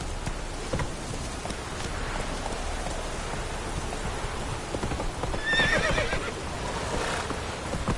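Roach the horse in The Witcher 3 clip-clops steadily along over a rain-like patter, with a clear whinny rising out of the hoofbeats near the end, close and moderately loud.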